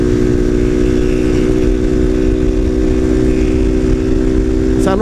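A Honda Titan 160 motorcycle with an unfiltered aftermarket exhaust idles loudly and steadily nearby with a low, throbbing rumble, then a quick sharp blip near the end.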